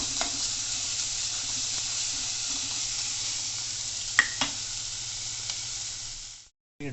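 Onions for a bitter melon and banana dish sizzle steadily in a pan over medium-high flame, a continuous close hiss with a couple of sharp stirring clinks before a brief pause near the end.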